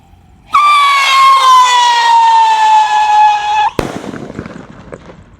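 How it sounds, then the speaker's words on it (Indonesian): A Pyro Rocketer Roman Candle firework shrieks with a loud whistling tone for about three seconds, then a sharp bang, followed by crackling and fading pops. "di sini ada Pyro Rocketer Roman Candle guys. Kita nyalakan. Oke, sudah menyala."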